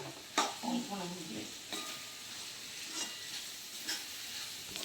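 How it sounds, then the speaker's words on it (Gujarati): Boiled vegetables and masala are stirred into a pot for pulao, giving a soft, close sizzle broken by several spoon scrapes and knocks at irregular intervals. "બાકી છે બધું મસાલો શાકભાજી મિક્સ કરી દીધું કૃષ્ણ મમ્મીએ તો."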